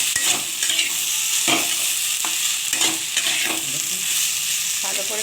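Spices and vegetables cook in a pan for a spicy okra and potato dish, sizzling loudly up close, while a utensil scrapes and stirs in quick, repeated strokes; nobody speaks.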